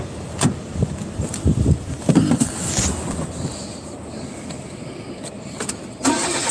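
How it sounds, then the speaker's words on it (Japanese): An air-cooled Porsche engine cranks over on its starter and settles into a deep, low idle, with a few sharper mechanical bursts and a surge near the end, close by and moderately loud. "このセル音でわかる。 わかる人はわかる。 完全に空冷ポルシェ。"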